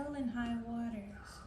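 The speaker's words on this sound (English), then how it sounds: "this bird that you guys are hearing right now, it's a huge bird" A large bird gives a loud, drawn-out call with sliding harmonic tones lasting over a second, heard close and clear against outdoor background noise.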